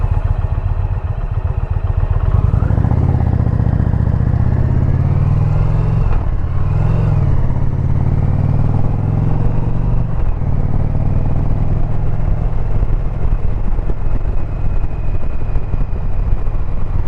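Motorcycle engine idling steadily at a traffic light with a brief rev midway, loud and close, rumbling continuously throughout the whole stretch.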